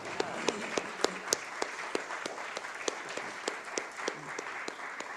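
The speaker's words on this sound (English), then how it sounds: "they deserve a big round of applause" A modest audience at a landscape-approaches conference gives a round of applause: a soft wash of clapping with individual sharp claps standing out at an uneven rhythm throughout.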